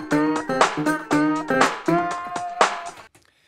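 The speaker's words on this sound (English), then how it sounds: "drum beat and some acoustic slide guitar," Simple drum beat with acoustic slide guitar played back in Logic Pro, with rhythmic hits under sliding, sustained guitar notes in a short, loud loop that cuts off at the end.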